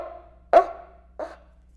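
A friction drum from the silent film era imitates a dog barking with two sharp woofs, the first louder, the second shorter and softer, close and alone.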